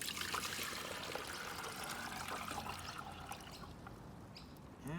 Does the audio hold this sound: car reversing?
no